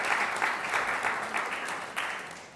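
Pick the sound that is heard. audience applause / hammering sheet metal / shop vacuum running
audience applause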